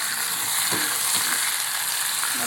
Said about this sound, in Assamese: ফাইনেলি মাংস দি দিলোঁ